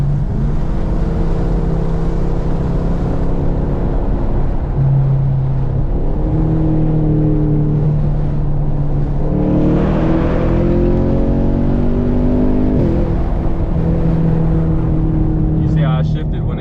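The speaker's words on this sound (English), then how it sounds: "I'm gonna do a little bridge pull for y'all right quick." A Camaro SS pulls hard on a bridge using its paddle shifters. The loud engine note climbs repeatedly in pitch, with distinct drops at each upshift over several gears, heard from inside the car.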